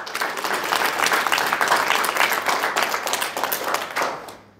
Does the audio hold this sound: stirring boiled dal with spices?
no